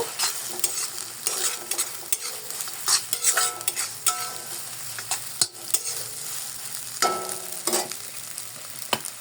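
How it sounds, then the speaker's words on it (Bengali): A spoon stirs fried tomato, peas, onion and chili through a sizzling frying pan, with repeated scraping strokes and light metallic clinks over a soft, steady crackle, heard up close and without speech. "এখন আমি এই ভেজে রাখা টমেটো মটরশুঁটি পেঁয়াজ মরিচ এটা আমি এখন এটাই মিশিয়ে দিব"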